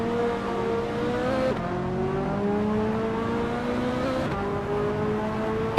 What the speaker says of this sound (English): driving a 2007 Lamborghini Reventon